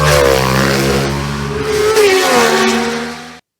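A Ducati V2 Panigale race motorcycle at the Isle of Man TT screams past at full throttle, a loud, close high-revving engine note that holds for a few seconds before cutting off abruptly.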